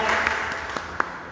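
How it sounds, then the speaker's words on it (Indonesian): Congregation in a church clapping for a short burst, a steady wash of hands with a few sharper claps standing out, fairly close and alone without talk. "Tepuk tangan buat Tuhan Yesus."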